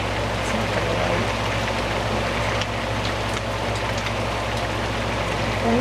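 Heavy rain falls outdoors in a neighborhood at night, a dense, continuous hiss with a low rumble underneath and a few faint ticks, holding steady the whole time.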